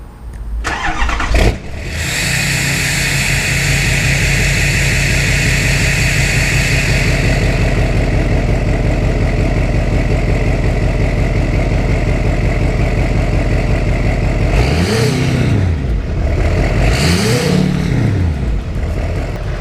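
A Duramax LML diesel pickup engine starting, then idling with a steady, loud low rumble close by, followed by two quick revs that rise and fall near the end.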